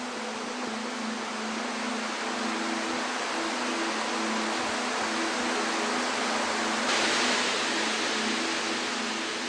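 Shiraito Falls on the slopes of Mount Fuji roars in a dense, steady rush of falling water, loud and unbroken throughout, with no voices.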